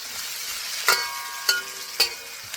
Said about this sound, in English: By stir frying, you're making sure that every ingredient gets exposed to heat.